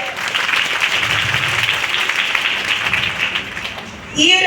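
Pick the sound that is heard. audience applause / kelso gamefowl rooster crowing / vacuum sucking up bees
audience applause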